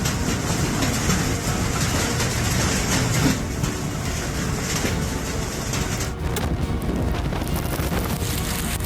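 Strong storm wind blows hard against the microphone outside a window near a collapsing Ferris wheel, a loud continuous roaring rush with heavy buffeting that eases slightly near the end.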